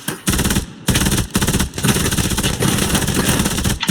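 Sustained machine gun fire in Hell Let Loose, loud and close, with long rapid bursts broken by a few short gaps.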